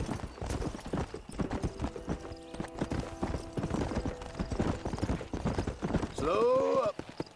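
A horse's hooves clip-clop in a steady rhythm across open ground in the Western video game Red Dead Redemption, under a voice talking, with a horse whinny rising near the end.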